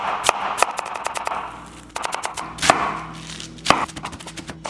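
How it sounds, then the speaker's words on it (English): A knife chops cabbage finely for slaw on a board, with quick, steady thuds coming in bursts, each run of rapid strokes broken by a few louder, heavier chops, close and clear with no talking. "Cut out the core and just chop this up really fine."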